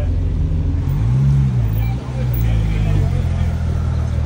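Cars pass along the Nürburgring race track, a loud continuous engine roar rising and falling as they go by, with people talking over it.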